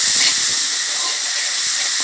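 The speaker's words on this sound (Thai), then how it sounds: "ผัดพริกแกงให้หอมก่อน" Red curry paste frying in a spoonful of hot oil in a pan, the start of a Thai red curry with roast duck breast and Thai eggplant; a loud, steady, close sizzle and hiss runs throughout.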